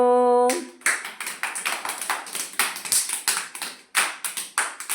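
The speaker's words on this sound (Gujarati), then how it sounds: "બાળકો તાળી પાડો." A group of children claps hands in a steady, quick rhythm after a brief sustained tone, the close sharp claps repeating evenly with a few louder accents.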